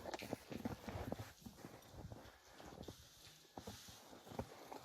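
A bay racehorse's hooves clip-clop in a steady walking rhythm on hard ground, fairly faint and unaccompanied by talk.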